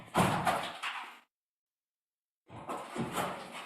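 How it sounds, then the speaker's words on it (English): Police beating on a door, heard as two clusters of loud banging thuds separated by a silent gap, with no talking. "I think that at one point they were beating the door,"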